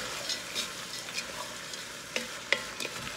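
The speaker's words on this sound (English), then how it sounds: "saute these with the sausage for a little while" Sausage and chopped peppers sauté quietly in a pan, a soft steady sizzle broken by a few light scrapes and taps of a utensil stirring.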